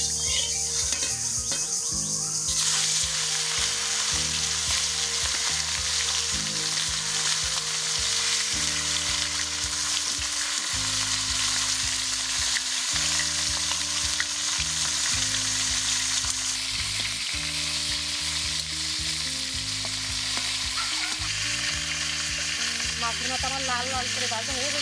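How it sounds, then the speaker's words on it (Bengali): Fish heads frying hard in hot oil in a wok in a village kitchen, a loud, continuous sizzle with crackling spatter running steadily throughout and no talking. "তেল গরম হয়ে গেছে, মাছের মাথাগুলো ভালো করে ভেজে নেবো।"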